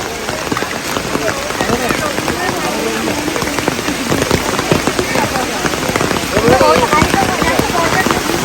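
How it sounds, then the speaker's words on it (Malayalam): Heavy rain pours at a temple, drumming steadily on surfaces close by with a dense patter while faint voices murmur in the background. "അടിപൊളി മഴ."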